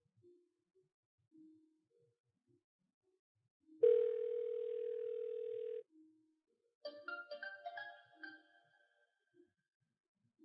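A phone signal rings out in a quiet room: one long steady tone lasting about two seconds, then after a pause a choppy, warbling burst of ringing tones, fairly faint overall.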